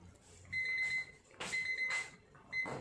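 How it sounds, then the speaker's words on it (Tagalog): A kitchen timer goes off while spaghetti noodles boil, sounding three repeated bursts of a piercing electronic beep over a low background hum. "Okay, so nag-alarm na po yung ating 14 minutes."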